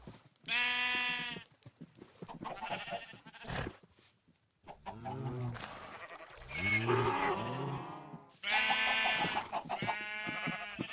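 Sheep in the video game Minecraft bleat repeatedly, several clear, loud, wavering calls spaced across the span with brief pauses between, heard alone without talk.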